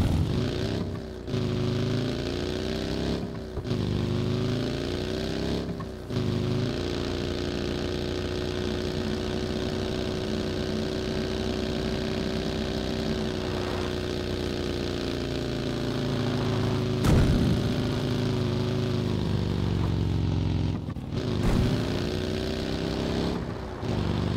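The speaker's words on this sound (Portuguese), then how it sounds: "Olha tá, a moto aqui, vou pegar ela." Motorcycle engine in the video game PUBG, a steady droning hum that holds for the whole stretch with a few brief dropouts, no voices over it.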